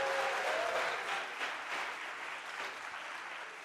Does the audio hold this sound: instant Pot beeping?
no